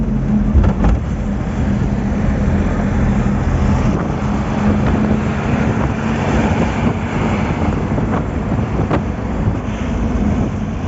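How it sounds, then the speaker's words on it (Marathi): A car's engine running with a steady, loud low rumble mixed with wind buffeting on a ghat road, droning evenly throughout with no one speaking. "गाडी पेटली आता"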